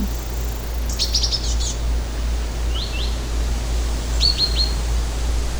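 A few birds tweet in quick clusters of high, sharp notes over a constant low hum and soft background hiss, with quiet gaps between calls.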